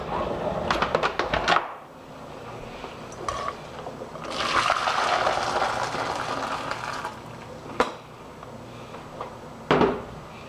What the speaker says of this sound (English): Here is some footage of me boil washing them.